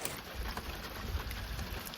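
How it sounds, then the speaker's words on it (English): Heavy rain pours down steadily at a château, a dense continuous hiss of water with no break and no voices. "When the rain comes down this fast"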